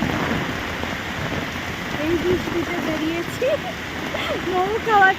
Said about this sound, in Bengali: এখন বেশ জোরে বৃষ্টি পড়ছে